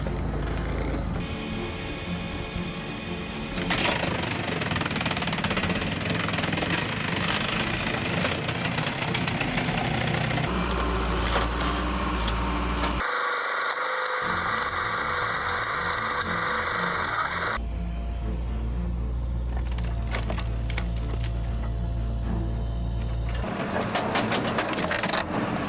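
A Koala VSP 6060 hydraulic log splitter works through logs, its engine droning steadily while the ram cycles, with bursts of cracking, crushing wood and machinery clatter changing across several passes, loud and close with no talk.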